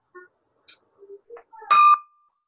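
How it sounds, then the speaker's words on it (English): A small bell is rung once during an online meeting after some soft voices and clicks, leaving a clear bright ring that sustains briefly before fading. "I'm just gonna ring the bell for 3 COVID tests that came back negative"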